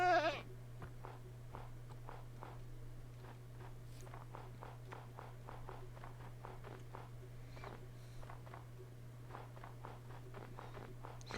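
A video game sheep bleats briefly at the start, followed by a long run of evenly paced footsteps over a steady low hum.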